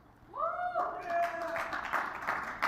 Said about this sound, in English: a smattering of applause, we can say